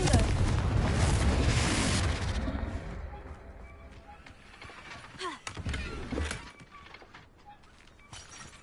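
Confringo spell blast in a video game, a loud booming explosion at the start that crumbles into scattered debris, crackles and smaller impacts, with a voice briefly heard.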